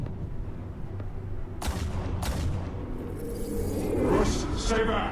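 A pair of sharp gunshots from Batman: The Telltale Series ring out close together over low background noise, followed by a rising rumble and clatter of action.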